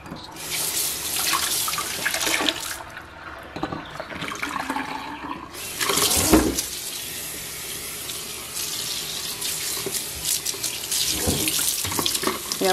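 Water drains from a kitchen sink after the plug is pulled, with a loud, close gush and gurgling that rushes, eases briefly, then surges again and keeps flowing.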